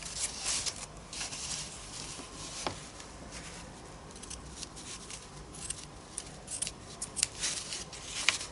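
Scissors snipping through a fabric sample piece for stitching and weaving, a close, quiet series of crisp irregular cuts and rustles with no talking.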